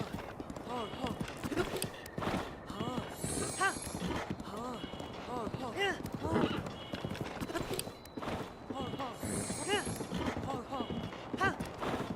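A horse gallops in Breath of the Wild with rapid, rhythmic hoof clip-clops and an occasional whinny, while someone talks over it almost the whole time.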